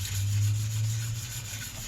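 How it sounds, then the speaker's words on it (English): Dry sanding by hand with 600 grit sandpaper on the engine cover of a 1983 Yamaha XV920M, a steady close rubbing scrape lasting a couple of seconds with no talk. "even just dry sanding, it's taking all those swirl marks out"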